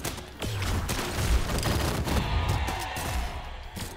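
Rapid pistol gunfire from the Brawlhalla fighting game cracks in a quick, uneven burst of sharp shots, loud and close, layered with game impact effects.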